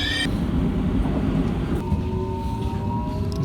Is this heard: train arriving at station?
yes